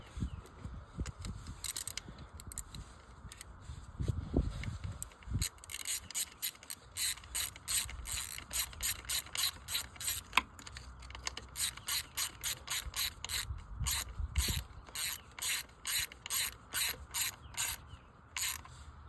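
A ratchet with a 10 mm socket tightens a bolt during spark plug work on a 2005 Mercury Montego, with rapid clicking bursts in repeated strokes, close and fairly quiet, and a few clunks early on.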